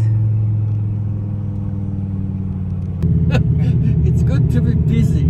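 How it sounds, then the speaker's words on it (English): A Dodge Viper accelerates hard, heard from inside the car. A steady low engine drone suddenly swells into a louder, rougher roar at about the three-second mark, and the noise of the car in motion continues behind it. "Love this feeling when you push the gas and it presses me to the seat."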